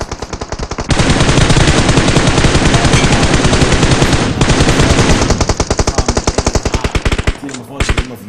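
Dense bursts of rapid automatic gunfire from a video game in a competitive Clatter of Clans qualifier match, loud and close, firing almost continuously with brief pauses and a sharper volley near the end.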